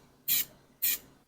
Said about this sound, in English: I think we're ready to spray now